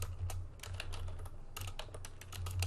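Quick, close clicking of a computer keyboard while entering HTML and CSS code, irregular bursts of keystrokes with short pauses, no voices.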